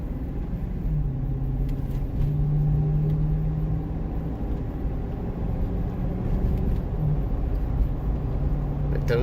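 A 2003 Cadillac Escalade with a 4L65E automatic transmission fitted with a shift correction kit, heard from inside while driving: a steady low engine rumble with tonal hums that step between gears, continuous and moderately loud.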